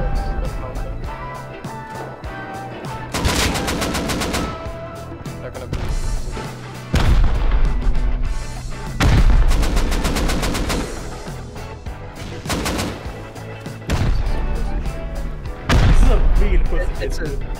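Rockets and gunfire hammer a base during a raid in the Rust video game, with repeated dense bursts of rapid shots and heavy blasts over a constant low rumble, loud and close throughout, with no talk.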